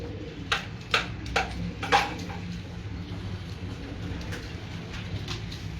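Pigeons cooing in a loft of dub-type birds: a few soft, low coos near the start, then quieter murmuring against a steady background hum and occasional sharp clicks, with no talking.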